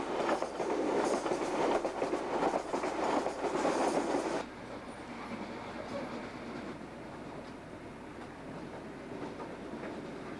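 An InterCity 125 train rumbles steadily along the rails in Britain, loud at first then dropping to a quieter, constant roll with faint rhythmic clatter.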